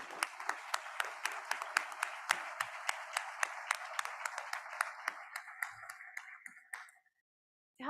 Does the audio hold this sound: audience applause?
yes